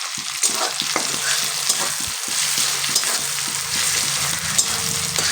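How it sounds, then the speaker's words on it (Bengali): Okra going into softened tomatoes in a pan and frying, a loud, close, continuous sizzle with stirring scrapes scattered throughout. "আর এই টমেটোটা যখন হালকা একটু নরম হয়ে আসবে এর মধ্যে কিন্তু আমি দিয়ে দেবো যে মেখে রেখেছিলাম যে ঢ্যাঁড়সগুলো"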